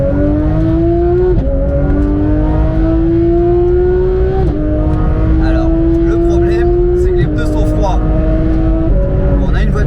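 A tuned turbocharged Porsche 991 GT3 accelerates hard on the Nürburgring, its engine note climbing loudly through several gear changes, each shift dropping the pitch before it rises again, with a voice speaking over the roar.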